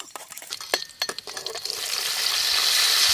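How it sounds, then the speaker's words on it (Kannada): Peanuts and chana dal roast in hot oil in a pan, with a few sharp scrapes and clinks of a stirring spoon at first, then a steady close sizzle that builds and holds to the end. "ಶೇಂಗಾ ಬೀಜ ಒಂಚೂರು ಲಾಯ್ಕ್ ರೋಸ್ಟ್ ಆಗಲಿ"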